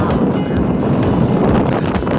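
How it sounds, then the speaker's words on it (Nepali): Steady wind rushing and buffeting the microphone at a beach, a continuous low roar with gusty swells and no voices. "हावा चलेको"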